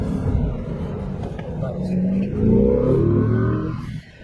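A C8 Corvette's engine revs and pulls through a lap in OEM mode, its rising harmonic drone loud and close, with a voice speaking over part of the run.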